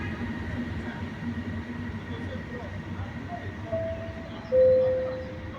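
Trains rumble at Padova railway station with a low steady rolling drone, ending in a loud rising whistle-like squeal as a train moves through, with a voice audible under the noise.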